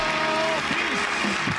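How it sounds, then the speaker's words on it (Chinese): Studio audience applause on a television variety talk show greeting a guest, a dense, steady wash of clapping that runs throughout, with brief voices rising over it. "掌声鼓励。"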